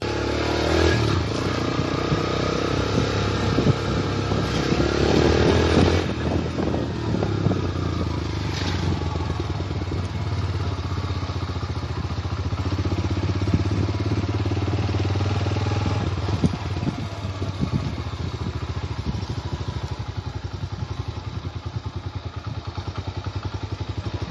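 A Yamaha YBR 125G motorcycle engine runs steadily throughout a test ride, revving and pulling away with occasional clatter and thumps, close and loud with no talking.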